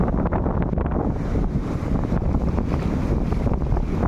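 Strong storm wind buffets the microphone with a continuous roar, surf and crashing waves churning underneath, loud and unbroken, on the coast at Kuźnica, Poland.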